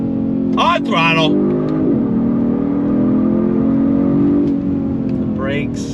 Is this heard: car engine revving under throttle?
yes